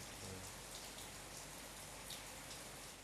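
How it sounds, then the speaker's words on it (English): Steady rain falling outdoors, a dense, even hiss of drops that holds throughout at a moderate distance, with no voices. "Yeah, you can hear rain outside."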